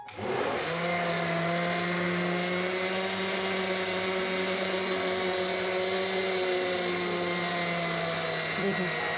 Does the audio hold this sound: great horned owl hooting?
no